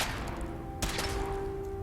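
Weapon fire during a suit test in Fallout 4, two sharp bursts cracking out over a steady electronic hum, the second arriving near the end of the short stretch.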